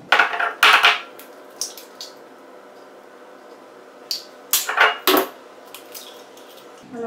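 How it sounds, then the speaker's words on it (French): Eggs cracked one after another into a bowl of crème fraîche and milk for a tuna quiche, giving two close bursts of sharp taps and clinks against the bowl with quiet pauses between, no voices. "je vais casser les œufs à l'intérieur"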